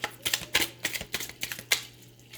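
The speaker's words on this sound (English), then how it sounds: "Last shuffle." Tarot cards are shuffled in a quick series of crisp riffling bursts, about eight close, loud flurries, then a short pause at the end.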